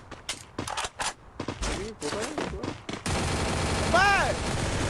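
Rapid gunfire from a shooter video game, bursts of shots cutting in and out, then a steady, loud stretch of continuous firing with a rising whine near the end.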